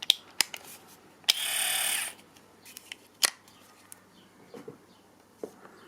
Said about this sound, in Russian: Вот, чуть-чуть надавливаете и поворачиваете. Все, вот эти ножи закрепились.